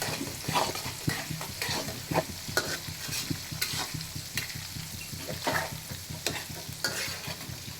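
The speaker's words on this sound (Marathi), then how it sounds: "लांब कापलेले कांदे हे टाकले जातात." Long-sliced onions fry in a pan for masala rice, sizzling steadily while a utensil stirs them in repeated scraping strokes, close and fairly quiet.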